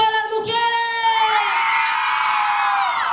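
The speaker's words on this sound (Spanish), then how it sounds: "¡Un tiro, un grito a las mujeres!" A crowd of women at a live mariachi-style show cheers and whoops on the emcee's call, a loud sustained chorus of high voices that swells and holds for several seconds.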